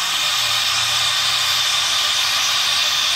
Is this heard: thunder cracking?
no